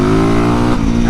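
A 450cc dirt bike engine revs hard and steadily, a loud, close, continuous roar with dense harmonics that wavers briefly partway through.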